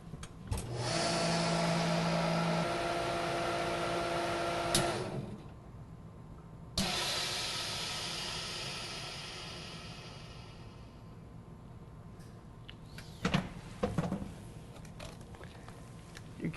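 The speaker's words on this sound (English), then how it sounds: "We place our product inside the vacuum machine using our slant tray." A MINIPACK vacuum sealer with cucumbers in marinade runs loudly with a whirring pump for about five seconds, stops, then a second pump cycle starts with a sharp onset and fades gradually, followed by a few small clicks and clunks.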